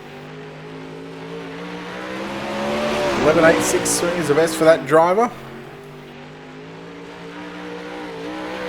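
A 360 sprint car at Kokomo runs a lap with a steady droning engine that swells into a brief roaring pass, all under continuous announcer commentary.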